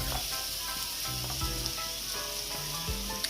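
Garlic fries in a tablespoon of butter in a pan with a steady close sizzle and hiss, plus occasional light stirring clinks, and no talk.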